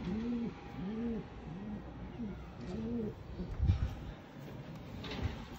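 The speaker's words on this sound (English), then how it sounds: "Pigeons from hell." Pigeons, a male and a female, coo close by in repeated soft rounded phrases with short pauses, and a faint knock or bump partway through.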